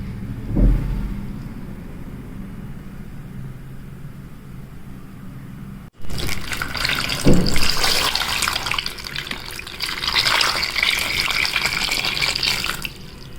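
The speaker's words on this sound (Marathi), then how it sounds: "सगळ्या कैऱ्या पाण्यात टाकायच्या आणि स्वच्छ धुवून घ्यायच्या" Quiet rustling gives way to a steady rush of running water, with splashing and sloshing as raw mangoes are washed in it.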